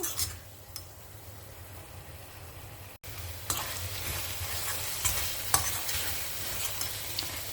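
Chopped vegetables sautéing and sizzling in oil in a single pot, with a steady frying hiss, a brief pause, then louder stirring scrapes and clatters of a spoon against the pot.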